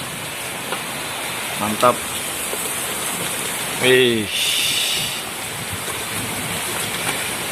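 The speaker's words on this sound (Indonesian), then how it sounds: "Sambil ditemani hujan," Steady rain falls outdoors while Sundanese nasi liwet is cooked and served, a constant broad hiss that runs through the whole stretch, with a brief spoken word in the middle.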